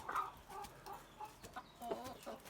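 Chickens on a chicken farm cluck softly and intermittently in short bursts, fairly faint against a quiet background.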